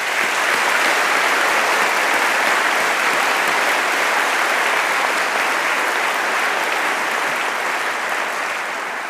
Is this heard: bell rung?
no